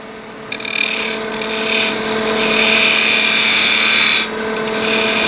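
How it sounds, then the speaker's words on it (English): A roughing gouge cuts a spinning wooden pepper mill blank on a lathe, giving a loud, steady grinding whir that swells and eases as the tool rides over the curve, with a brief break near the end. "So the roughing gouge is a wonderful tool for doing curves like this."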